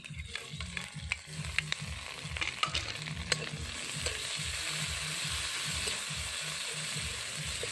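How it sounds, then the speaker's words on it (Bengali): Onion and green chili frying with garlic paste, ginger paste and chopped tomato for a goat fat and potato curry, a steady close sizzle broken by rhythmic scraping of a spatula stirring the pan. "পেঁয়াজ আর কাঁচা লঙ্কা একটু লাল লাল করে ভাজা করে নিয়ে তার মধ্যে দিয়ে দিলাম রসুন বাটা"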